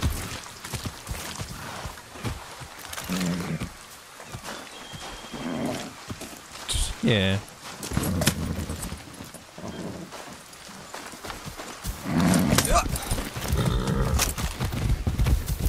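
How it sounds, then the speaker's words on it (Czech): Horses in Far Cry 6 clop and snort nearby, with uneven hoofbeats, blowing breaths and occasional whinnies mixed among other game sounds, and a brief spoken word at one point. "Proč jsou tady všude koně?"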